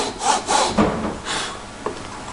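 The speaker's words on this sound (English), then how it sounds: "We're going to get our jigsaw, pull it back, and then just very slowly we're going to cut down" Jigsaw cutting slowly through MDF for a lap joint, a close rasping saw stroke with short rhythmic bursts and brief pauses.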